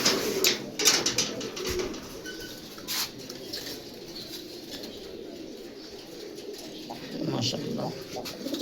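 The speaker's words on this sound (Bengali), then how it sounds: "শর্টকাট, অল্প সময়, একদম 4-5 মিনিট অল্প কয়েকটা কবুতর দেখামু।" Several pigeons coo in low, soft bursts nearby, mixed with rustling and brief wing flaps, and the sound is stronger at the start and end.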